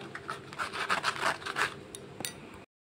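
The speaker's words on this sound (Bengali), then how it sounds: "এই যে এইভাবে এইভাবে নিয়ে এইভাবে এটাকে এরকম করে ঘষতে হবে" Lotus seeds being rubbed by hand to scarify them, giving a steady rasping scrape in repeated strokes that is close and fairly loud, heard alone before stopping abruptly.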